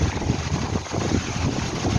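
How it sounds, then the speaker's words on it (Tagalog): Strong wind with rain during a typhoon, buffeting the microphone as a steady, loud rumbling roar throughout with no clear voices. "Malakas ang hangin."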